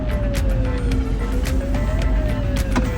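A 2024 Changan Hunter RE-EV electrified pickup accelerates with steady road and tyre rumble, while a thin motor whine rises and shifts in pitch. Brief clicks and knocks sit on top, and no one speaks.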